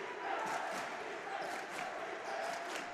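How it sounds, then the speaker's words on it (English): Crowd noise roaring steadily through a JV basketball game against Gonzaga, a dense wash of many voices with swells of shouting and cheers, loud and continuous throughout. "The crowd is rocking"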